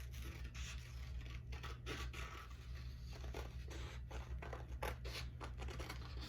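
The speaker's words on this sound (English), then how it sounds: "Now I'm going to cut out his body." Scissors cutting out a paper craft piece, quiet close-up snipping and rasping of the blades through paper in a steady series, with no talk.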